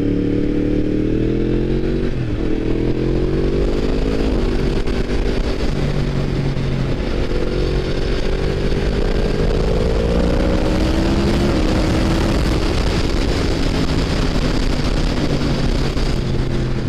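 Decatted Yamaha MT-10 motorcycle engine running loud and close for the whole stretch, a continuous rough exhaust drone whose pitch climbs and falls through several revving swells, with no talk.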